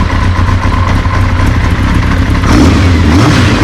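A motorcycle engine with a slight exhaust leak runs loud and close, a rough throbbing idle that swells into a rev toward the end, the pitch climbing and then falling back.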